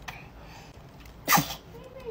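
A single sharp sneeze bursts out nearby over quiet room background, short and loud against the near silence.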